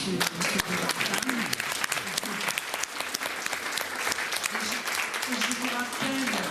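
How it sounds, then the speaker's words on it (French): Audience applause at the close of a French conference lecture, sustained crisp clapping from a hall full of people, with faint voices murmuring underneath. "je crois que nous pouvons applaudir Monsieur Vivorca"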